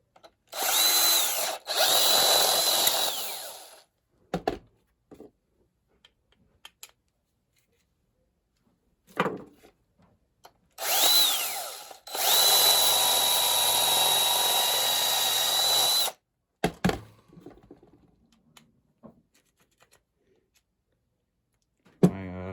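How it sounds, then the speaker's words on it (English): Power drill running in loud bursts, two long whining runs with short spurts between, then rattling handling noises and a few quiet clicks. "I don't want to drill it any bigger, so I'm going to try to use this."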